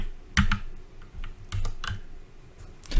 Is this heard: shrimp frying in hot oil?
no